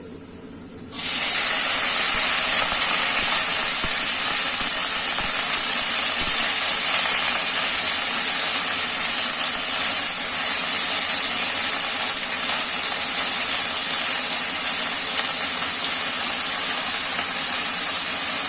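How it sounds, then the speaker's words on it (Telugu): Curry leaves, potato and onion hit hot oil for a Telangana-style ugganii tempering, and a loud, steady sizzle bursts in suddenly and holds without a break. "కరివేపాకు ఆలుగడ్డ ఉల్లిగడ్డ మూడు కలిపి పోపు వేసినానండి"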